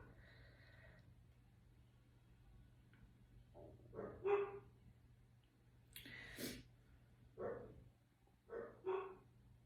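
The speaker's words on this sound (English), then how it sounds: "Sorry if you can hear my dogs." Several faint dog barks and yips come from indoors in the background, in short separated bursts with quiet gaps between them.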